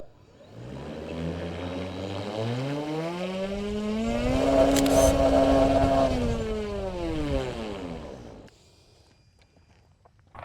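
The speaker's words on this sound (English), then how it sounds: "Okay, let's run the thrust test." A 30cc model airplane engine roars during a thrust test on the ground, its pitch climbing as it revs up, holding high, then winding down and cutting off, leaving near silence at the end.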